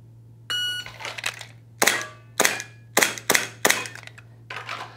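A shot timer drill: an electronic start beep, then a string of sharp, close gunshots spaced at uneven intervals, about six in all, over a low steady hum.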